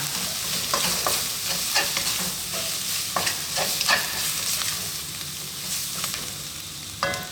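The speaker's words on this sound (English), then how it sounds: "And just for a few seconds we're going to keep these moving in the pan." Spices and chili flakes stirred in a hot frying pan for a Sri Lankan fish curry, a steady close sizzle broken by repeated scraping strokes of a utensil against the pan, with no voices.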